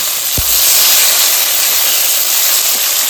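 Tomato and green chili hitting hot oil left from frying fish, with black cumin seeds already in it, set off a loud, constant hiss that carries on steadily after a brief thump at the start.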